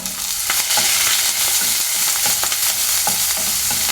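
Ivy gourd curry is stirred in a hot pan with green chillies and curry leaves, giving a steady oily sizzle and frying crackle with repeated scraping strokes of the spoon, close and loud, with no voices.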